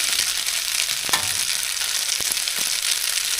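Noodles with boiled eggs and oyster sauce stir-fried in a pan, a loud continuous sizzle broken by several sharp scraping stirs of the utensil, close up and without talk.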